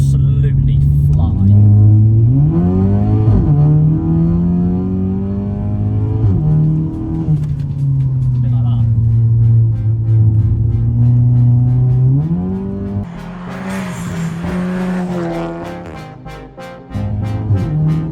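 A 330bhp VW Polo GTI accelerates hard out of corners, its engine loud and close, rising in pitch through the revs with gear changes breaking the climb, and someone talks over it.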